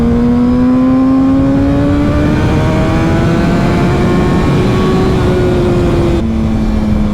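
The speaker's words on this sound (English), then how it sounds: "You forget how loud it is too when you're on a bike." Motorcycle engine revving on a ride, loud and close, with a continuous smooth drone whose pitch climbs steadily, eases slightly, then settles lower near the end.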